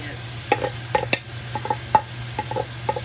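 Scotch bonnet, scallion and tomato stirred in a hot pot for steamed cabbage and salt fish, with spoon scrapes and taps against the pot in an irregular rhythm over a faint sizzle and low hum.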